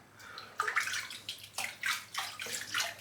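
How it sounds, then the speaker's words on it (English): Warm water splashes and swirls in a shaving soap container, several close, bright sloshing bursts in uneven rhythm against a quiet background. "Just fill it with some warm water, swirl it around."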